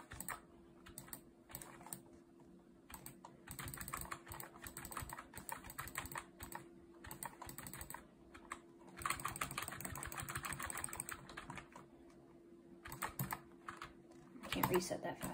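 Rapid computer keyboard typing with mouse clicks during fast game building edits, coming in dense bursts close to the mic over a steady low hum, with a player talking at times.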